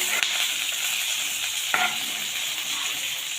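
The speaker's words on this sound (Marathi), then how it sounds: "मिरच्या पण आपल्याला छान असं फ्राय करून घ्यायच्या।" Chopped green chillies and coriander sizzle steadily in a hot oiled pan, a continuous hiss broken by two sharp utensil clicks from stirring.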